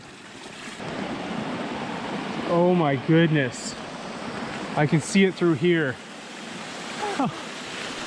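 A forest waterfall sends a steady, close broadband rush of falling water through the whole stretch, with a person speaking excitedly over it in bursts.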